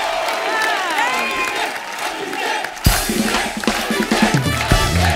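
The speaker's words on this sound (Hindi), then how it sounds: "जोरदार तालियां अभिषेक भाई और चित्रांगदा के लिए" A studio audience on The Kapil Sharma Show applauds and cheers after a Bharatanatyam dance. Voices and musical tones come first, then a sudden loud burst of crowd cheering and clapping with whoops.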